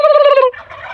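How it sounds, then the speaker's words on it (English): Wild turkeys that turned up on a farm property let out a loud, close gobble that lasts about half a second, followed by fainter trailing calls. "These are all wild turkeys that showed up on our property."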